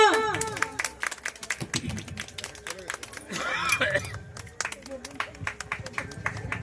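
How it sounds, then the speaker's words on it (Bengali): An audience claps for performers at a neighbourhood children's drama show, scattered uneven claps and a short swell of applause, heard mostly under a loud speaking voice and crowd chatter. "সবাই হাততালি তাদের জন্য।"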